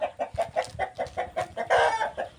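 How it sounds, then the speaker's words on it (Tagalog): Chickens cluck in a rapid, steady series of close, agitated calls, one louder burst near the end. "Bulabugin ko yung mga manok."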